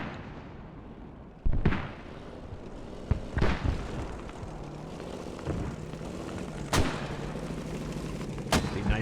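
Mortar tubes firing in the video game Squad, with insurgents defending using propane mortars: four separate heavy thumps spaced a few seconds apart over a constant droning engine and battlefield rumble.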